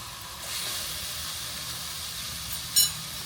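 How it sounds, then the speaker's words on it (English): A steak pan sizzles steadily with a soft, continuous hiss and no voices. "this pan is hot. But you can hear it sizzling, right?"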